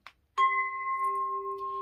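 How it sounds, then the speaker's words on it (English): A steady pure 396 Hz tone starts abruptly after a faint click and holds evenly at moderate level, with no voices. "The tone that goes along with this angel, which is in the angel choir and in the root chakra, is 396 and sounds like this."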